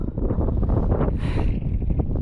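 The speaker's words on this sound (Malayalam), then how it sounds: "കാറ്റടിച്ചോ, പെരും കാറ്റ്." Strong, cold wind gusting at high altitude, a loud continuous roar buffeting close to the microphone with a brief hissing surge midway.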